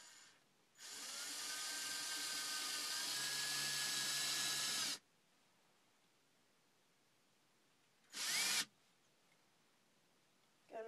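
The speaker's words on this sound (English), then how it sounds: "So I'm going to drill this in." A power drill drives a screw into a homemade nail polish shelf, one long steady whine of about four seconds followed by a short second burst, loud and close with no talking.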